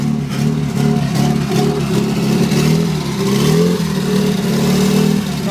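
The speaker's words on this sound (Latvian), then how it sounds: "Parāda, ka turbo spēja uz 3 cilindriem." A small turbocharged three-cylinder engine in a Ford Pinto revs steadily and loudly, its throaty drone rising and falling in pitch with no pauses throughout.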